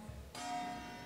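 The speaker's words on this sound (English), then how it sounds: "At the end, you're gonna hear the awesome gong" A gong is struck once to end a five-minute lightning talk at a Ruby conference, ringing out with a bright, sustained tone that lingers in the hall.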